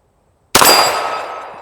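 A single sharp gunshot followed by a bright metallic ring of a struck steel target, decaying over about a second.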